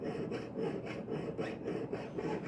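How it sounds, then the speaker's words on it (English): A jeweler's saw cuts through two layers of a forged metal bangle at once, steady rhythmic rasping strokes about four per second, close and fairly soft with no voices. "And you saw carefully through both layers of metal at the same time."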